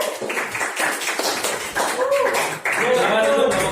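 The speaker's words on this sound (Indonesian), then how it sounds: "Oke, beri tepuk tangan buat kelompok 3." A classroom of students claps for a group at the front of a history class, scattered hand claps mixed with chatter and voices talking over them throughout.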